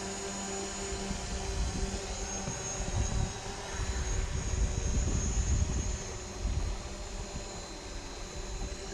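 A camera drone hovering over a snowy park on a cold February day, a steady, moderately close propeller whine and buzz, faintly rising and falling, with no talk.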